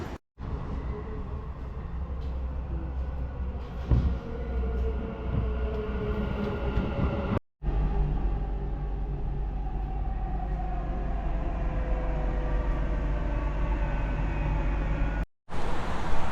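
A Dubai Metro train runs along the line, a loud continuous low rumble and rolling rail noise heard from on board, with brief dropouts and faint clicks along the way.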